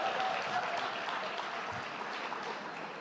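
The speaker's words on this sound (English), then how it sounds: "Can we give Kwanzaa Jones another round of applause for all the great work?" An audience at a gala gives a continuous round of applause, a soft, fairly distant wash of clapping heard alone without speech.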